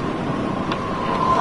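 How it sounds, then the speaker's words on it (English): Steady wind blowing in Until Dawn, a continuous broad rushing noise with a low rumble, even and fairly loud throughout, with a faint tone hovering beneath it. "Why is it so windy all of a sudden?"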